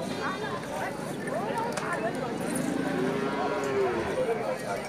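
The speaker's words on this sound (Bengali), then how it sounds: "দেশি জাতের সার গরু" A local-breed bull gives a long, deep low moo amid a busy crowd of voices talking nearby at a cattle market.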